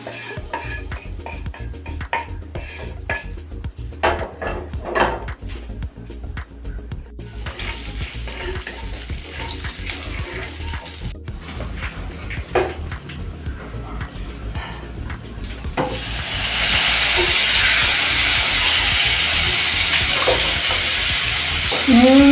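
Garlic for chicken adobo sizzles in a pan, with stirring clatter and scraping in the first part, then a loud, steady frying hiss that rises and holds toward the end.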